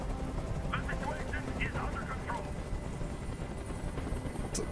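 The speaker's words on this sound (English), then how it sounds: "I can't stand that noise anymore. Tell that helicopter to get out of here." Helicopter in the video game Detroit: Become Human, a steady loud rotor thrum and whine that holds throughout, with a voice speaking over it.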